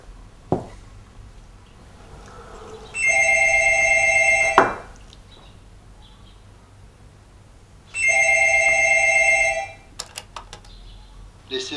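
Telephone in a home ringing twice in long electronic trills separated by a pause, loud and close, with a click as the answering machine picks up.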